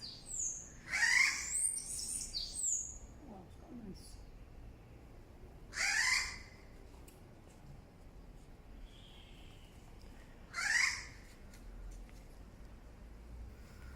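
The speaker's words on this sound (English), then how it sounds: "it's just lovely to hear the birds" Birds sing outside a hotel room in La Romana, three loud chirping calls spaced several seconds apart over quiet ambient noise, with faint talk in the background.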